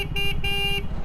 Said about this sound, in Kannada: ಹಾರನ್ ಹೆಂಗಿದೆ ಕೇಳಿಸ್ಕೊಂಬಿಡಿ